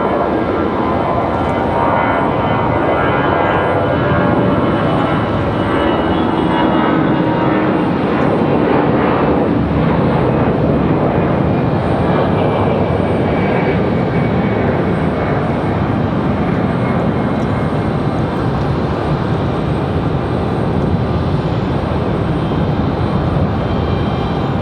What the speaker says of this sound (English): We get that A319.